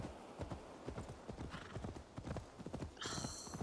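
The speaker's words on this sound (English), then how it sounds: "Why does the horse have to run faster than me?" A horse runs in a video game, its hooves clip-clopping in a quick, uneven rhythm close by, with a brief bright burst near the end.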